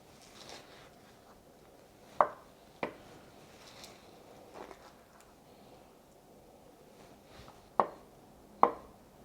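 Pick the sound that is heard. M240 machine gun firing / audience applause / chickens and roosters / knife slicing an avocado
knife slicing an avocado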